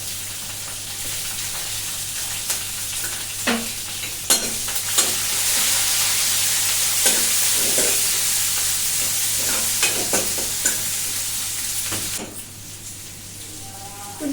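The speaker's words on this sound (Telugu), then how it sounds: "ఉల్లిపాయలు ఇలా 2 నిమిషాలు వేయించుకున్న తర్వాత అందులో 1/2 టీ స్పూన్ వరకు పసుపు వేసుకోవాలి." Crushed garlic and chopped onion pieces frying in a pan, a continuous close sizzle broken by sharp scraping stirs, with a faint voice in the background.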